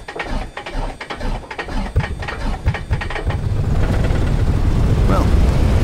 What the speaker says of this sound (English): You scan the area, shout clear prop, and start the engine.